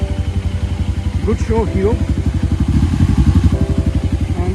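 A Hero Xpulse motorcycle engine runs after being submerged in water on a muddy trail, chugging in a fast, steady, pulsing rhythm close by. A person speaks briefly over the engine noise.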